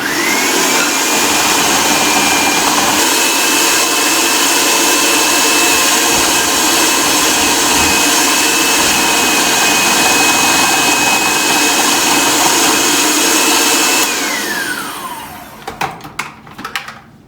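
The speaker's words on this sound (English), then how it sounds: "And so I'm going to put this into the food processor." Food processor chopping cucumber for a raw cucumber salad, a loud continuous motor whir with a steady high pitched whine for about fourteen seconds, then winding down, followed by a few clatters.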